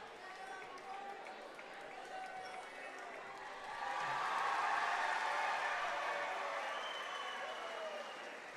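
Players, parents and students cheering at a high school boys' basketball championship game in a gym, a moderate crowd roar with clapping that swells midway and stays up, under a voice talking.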